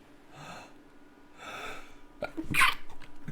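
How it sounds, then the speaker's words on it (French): A single sharp sneeze bursts out near the end, preceded by a couple of soft breathy inhales, close and fairly loud. "Je vais éternuer, attention."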